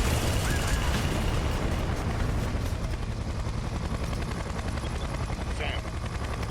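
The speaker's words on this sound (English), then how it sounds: "You have the helicopter up there shooting at you the whole time." Helicopter attack in Splinter Cell: Conviction, a dense, continuous roar of rotor noise mixed with rapid gunfire and explosive rumble, loud and unbroken throughout.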